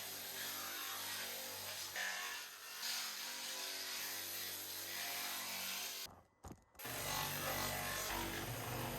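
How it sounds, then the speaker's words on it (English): A power tool grinds down parts for a 25ft Bertram boat restoration with a steady, loud abrasive whine. It breaks off briefly near the end, then resumes. "I want to finish grinding these bits"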